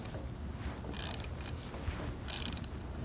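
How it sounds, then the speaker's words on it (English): A Fulton XLT bolt-thru swivel trailer jack wheel mount being tightened, giving faint metallic ratcheting and creaking bursts against a low background hum. "So I'm going to tighten down a little bit more, try and get a few threads out of here"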